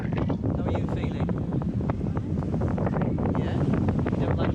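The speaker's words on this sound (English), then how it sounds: "a wind which is about 10 knots gusting to 18" Gusty wind of about 10 knots, gusting to 18, buffets a sailing boat off Sardinia, making rough, roaring bursts of noise close to the microphone, with people talking through it.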